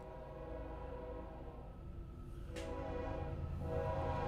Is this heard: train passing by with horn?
yes